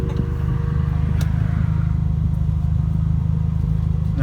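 A car engine runs loud and close as the driver presses the gas in first gear, a steady rough throbbing rumble with faint clatter and a couple of brief clicks over it.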